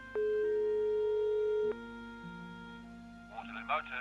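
A phone ringing tone during a call in the video game Broken Sword 5 sounds as one loud, steady electronic tone lasting about a second and a half, followed by quieter background music and a voice answering near the end.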